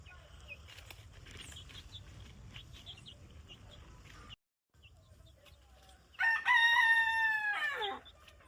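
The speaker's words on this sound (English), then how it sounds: "Chickens." A rooster crows loudly near the end after a stretch of quieter farmyard clucking and chicken noise, with a brief silent gap midway.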